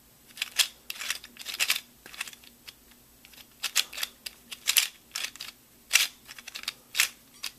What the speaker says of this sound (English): then it just clicks back together